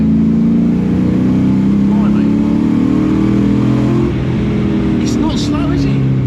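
A Volvo 242 fitted with a Corvette LS V8 revs hard, its deep steady drone climbing in pitch twice, heard close and loud with an indistinct voice over it.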